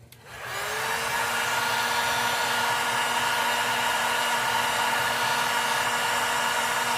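A heat gun blows steadily and loudly on custom airbrushed paint on a bicycle crank, a constant close whooshing roar with a faint whine that starts abruptly and holds without a break.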